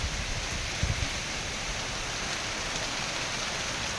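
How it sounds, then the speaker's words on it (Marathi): Steady rain falls in a continuous, even hiss with a few soft thumps early on, heard alone without any voices. "अजून पाऊस आला"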